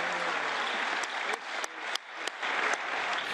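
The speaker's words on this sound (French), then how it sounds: "Sous un tonnerre d'applaudissements" Members of the European Parliament applauding after the vote approving the Paris climate agreement, a loud, sustained round of clapping in a large chamber with a few sharper sharp claps standing out.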